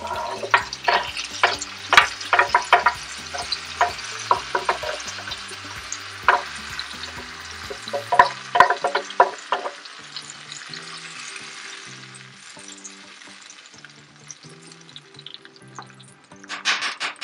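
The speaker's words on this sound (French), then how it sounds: "et on laisse brunir pendant quelques minutes. Je vais rajouter la tomate." Tomato fries and browns in a pan, sizzling steadily with a string of clatters and stirring scrapes that thin out toward a quieter simmer.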